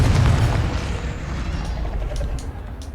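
A Confringo fire spell explodes in the video game Hogwarts Legacy, a loud low boom with a rumbling tail that fades over a few seconds.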